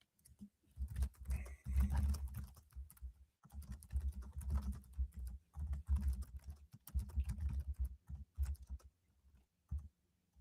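Rapid computer keyboard typing in uneven bursts with brief pauses, close and fairly loud, clicking along during a live test of a new publishing feature on a website.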